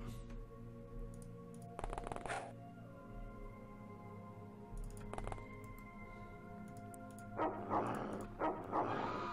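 Short bursts of dog barking from The X-COM Files game, two clusters early and mid-clip over a steady humming game soundtrack, with faster clicking bursts near the end.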